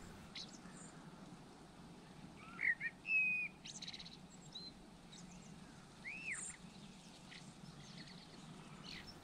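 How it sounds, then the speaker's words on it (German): A common blackbird sings from a high perch out on open heathland, giving several short, faint whistled phrases against a quiet hiss of background noise. "Auch mitten in der Heide waren die Amseln anzutreffen. Meist sangen sie von hohen Warten, um Weibchen zu imponieren."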